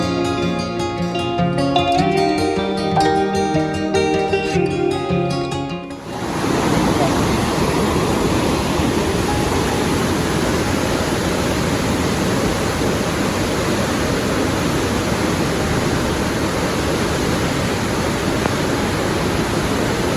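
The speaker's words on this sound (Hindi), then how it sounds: "आप पीछे का शोर सुन सकते हैं। ये है भागीरथी नदी का बहुत ही तेज शोर" The Bhagirathi river at Devprayag roars loud and continuous, a dense broadband rush of fast water that takes over after a few seconds of music and then holds steady without a break.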